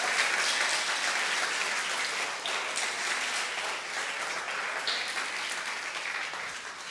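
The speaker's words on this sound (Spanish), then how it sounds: "si quieres aplaudir y glorificar a Dios por eso." A church congregation applauds to glorify God, a long, sustained, even roar of many hands clapping together that fills the room and eases off only slightly toward the end.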